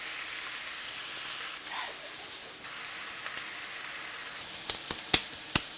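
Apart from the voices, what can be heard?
cheesesteak meat sizzling in a hot pan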